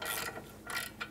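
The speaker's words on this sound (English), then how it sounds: "that's an 18 millimeter socket on the two mounting bolts that are located right there" A hand ratchet with an 18 mm socket loosening the brake caliper bracket mounting bolts on a 2007-2017 Jeep Compass, a few quick close clicking ratchet strokes, quiet and without talk.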